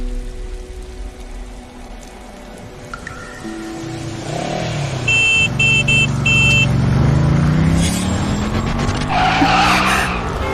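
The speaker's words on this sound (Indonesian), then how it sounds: "mobil kami yang menabrak mobil Anda" Car tires squeal and skid at length over a rumbling engine and rushing noise, rising in intensity toward the end, with scattered sharp sounds hinting at an impact.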